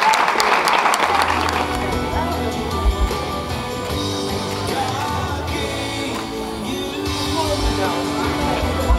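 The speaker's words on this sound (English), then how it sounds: "let's give a round of applause." Wedding guests applaud at a reception, a steady wash of clapping with cheers and a few whoops over background music, with some talk mixed in.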